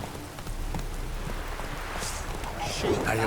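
Steady rain hiss in The Witcher 3 during the Bloody Baron storyline, a dense continuous patter filling the scene with faint low rumbles and other game sounds mixed in.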